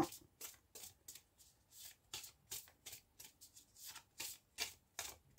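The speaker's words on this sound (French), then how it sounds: "je vais commencer par vous tirer une carte" Oracle cards being shuffled by hand make a quick, rhythmic run of soft riffling bursts, close and quiet, repeating evenly with no voices.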